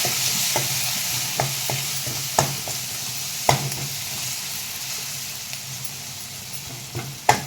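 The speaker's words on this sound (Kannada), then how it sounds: "ಚೆನ್ನಾಗಿ ಫ್ರೈ ಮಾಡೋಣ ಎಲ್ಲನೂ." Masala Maggi ingredients with mutton masala stirred and fried in a pan, a steady close sizzle broken by sharp scraping spatula strokes at an irregular rhythm, with no talking.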